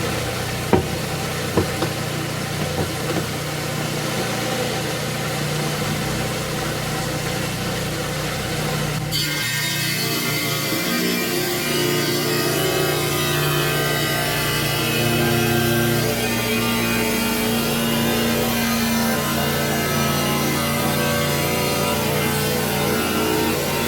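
A rock saw cuts through a piece of bright red Washington jasper, a steady grinding whine that continues for the whole stretch, growing harsher and denser midway as the blade bites deeper.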